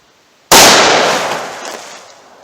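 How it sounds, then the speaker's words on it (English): .357 Magnum gunshot with a Federal 125 grain load fired into a water jug about ten feet away: a single sharp, loud blast followed by a decaying outdoor echo. "So here is that 357 Magnum"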